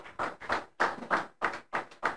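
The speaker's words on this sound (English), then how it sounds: "Let's give him a round of applause and appreciate him." Scattered hand clapping at a church teaching and Q&A session, coming in rhythmic bursts of claps with short gaps rather than a sustained ovation, fairly faint and with no talking over it.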